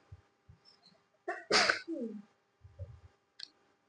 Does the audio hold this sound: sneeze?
yes